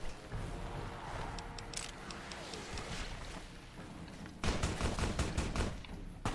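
Gunfire and explosions in the Fallout: New Vegas video game: rapid bursts of shots crackle steadily, then a louder, denser volley of blasts takes over in the final seconds.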